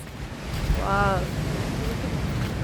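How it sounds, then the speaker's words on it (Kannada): Ocean waves wash onto a beach as a steady roar under strong wind buffeting the microphone, with a brief voice heard in the middle. "ಸೊ ಕೇಳಿಸ್ಕೊಳ್ಳಿ ಅಲೆಗಳೇ ಸದ್ದು."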